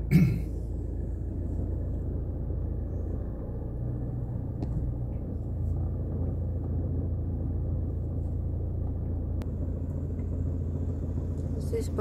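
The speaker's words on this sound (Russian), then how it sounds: "Посмотрите, сколько машин въезжает." Several cars roll slowly into a Woburn safari park in England, a steady low engine rumble and road noise with no distinct passes, continuous and moderately close throughout.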